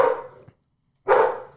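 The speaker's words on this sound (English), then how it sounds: "there's Ernie's dogs" Dogs barking: two loud, close barks separated by a short silence, with no talk.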